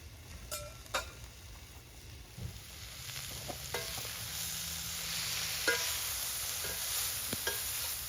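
Mushrooms sizzling in a pan over a fire, stirred with a long-handled blacksmith-made spatula: a steady bright hiss of frying throughout, broken by occasional sharp metallic scrapes and taps of the spatula.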